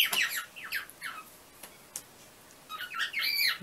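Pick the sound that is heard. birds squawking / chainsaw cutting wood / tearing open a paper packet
birds squawking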